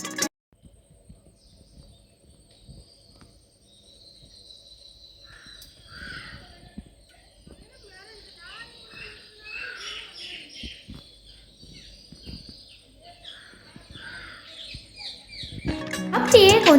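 Parrots and koels call in a garden, with scattered chirps and repeated calls at moderate distance that grow busier midway, ending in a loud noisy burst.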